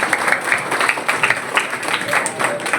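Scattered audience clapping at a spiritual satsang gathering, a loose run of claps with uneven rhythm that stays fairly close and moderately loud throughout.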